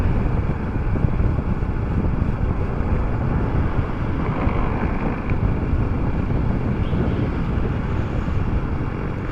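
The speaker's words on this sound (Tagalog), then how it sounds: "wala ka talagang ibang maririnig kundi hangin eh" Constant heavy wind buffeting the microphone on a Yamaha PG-1 motorcycle ride, a loud low rumble that never lets up, with no voices.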